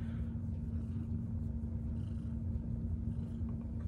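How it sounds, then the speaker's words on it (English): A cat purrs steadily and close up, a continuous low rumbling that runs unbroken with no talk over it. "I love all the kitties."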